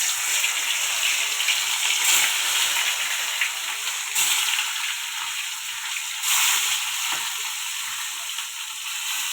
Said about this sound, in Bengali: কড়াতে তেল দিয়েছি, তেলটা গরম হয়ে এসছে, এবার মাছ দিয়ে দেবো।